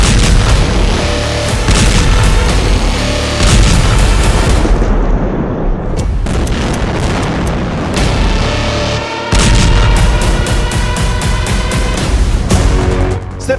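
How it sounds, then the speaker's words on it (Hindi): Bombing in Gaza heard as a dense, loud series of booming explosions and heavy blasts with crackling bursts, continuing almost without pause, with brief lulls around the middle. "7 अक्टूबर 2023 को क्या हुआ और उसके बाद गाजा में कैसे बॉम्बिंग शुरू हुई, ये फ्लैशबैक में देखिए"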